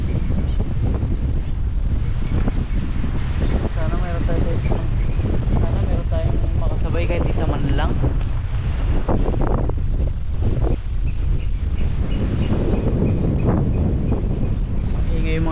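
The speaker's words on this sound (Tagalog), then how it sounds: "Malakas ang hangin." Strong wind roars continuously against the microphone at Weymouth Beach, New Zealand, a loud, buffeting rush with surf underneath, while someone talks over it.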